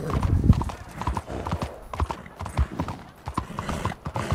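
Horse hooves clip-clop in a steady, close rhythm in the Western video game Red Dead Online, with a brief neigh mixed into the trotting.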